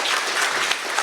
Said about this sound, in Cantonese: 好，首先請以大力嘅掌聲歡迎我哋 ICSD 創會主席葉永鏗博士同我哋講幾句説話